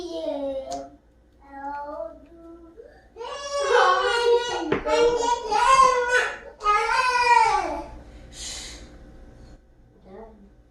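Baby cries and fusses close by in a crafting room, bursts of wailing and gasping sobs broken by short pauses, with a few quieter whimpers toward the end.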